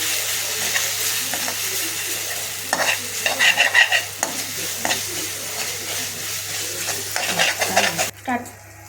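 Ginger garlic paste stirred and frying in a pan for a mushroom curry, a steady sizzle with scraping stirs in bursts, close and fairly loud, alone without talk.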